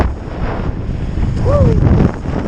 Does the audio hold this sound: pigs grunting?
no